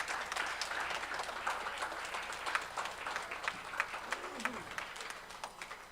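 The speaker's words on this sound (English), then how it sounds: "So let's give them a big round of applause." A meditation group applauding its volunteers, fairly faint, steady clapping from a modest room of people with scattered sharper claps, and a brief voice near the end.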